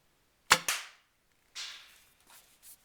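A homemade Snap Bow Mk5 blaster fires one sharp snapping shot, with a fainter second crack right after, then a couple of softer distant thumps as the projectile lands.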